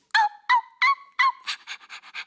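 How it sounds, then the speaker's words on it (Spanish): A small dog gives four quick, high-pitched yaps in a steady rhythm, followed by a run of fainter, breathy panting-like bursts, close and alone. "Y la pequeña Kimmy ladra muy agudo."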